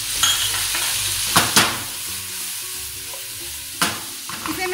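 Lime chicken cooks in a pan with a steady sizzle, broken by a few sharp utensil scrapes and clatters up close, with no talking.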